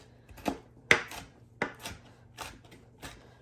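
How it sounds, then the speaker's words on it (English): A knife chops banana peppers very fine on a board, giving about six sharp, close thunks at an uneven pace with no talk. "I'll run my knife through it to make them tiny too."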